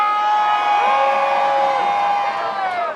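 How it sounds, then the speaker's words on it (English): Large crowd at a Birmingham demonstration for Palestine cheers and whoops loudly and continuously, with a sustained roar of mixed voices and higher shouts rising through it. "And I want an even bigger cheer for South Africa"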